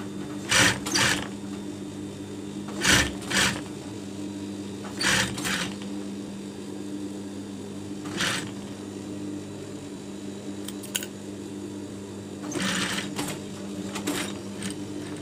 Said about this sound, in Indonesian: dan dijahit seperti biasa